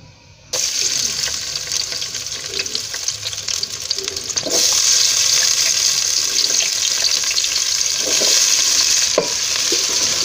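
Chopped medium onion frying in half a cup of ghee for a dhaba-style matar keema, a steady close sizzle and crackle with occasional clinks of a stirring spoon, no voices.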